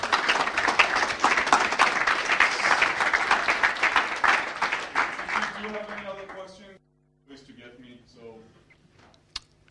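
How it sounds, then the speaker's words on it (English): Dense applause from a conference audience after a talk on PHP, loud and sustained for several seconds before tapering off, followed by someone speaking alone. "J'entends les applaudissements qui veulent commencer"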